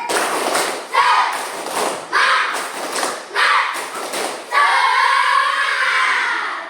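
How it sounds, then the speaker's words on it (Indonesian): A classroom does rhythmic 'tepuk semangat' clapping, loud bursts of claps in a patterned beat alongside group chanting voices, ending in a sustained shout. "kita mulai dengan tepuk semangat, tepuk semangat"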